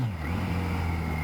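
A Kawasaki GTR1400 motorcycle engine rises in pitch through a short rev while filtering through traffic, a steady close mechanical drone with wind rush, no talking.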